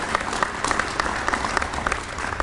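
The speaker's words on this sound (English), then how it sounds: "Give them a round of applause." Applause from the crowd at a speech by Governor Noem in Huron, a steady dense clapping that fills the room without pause.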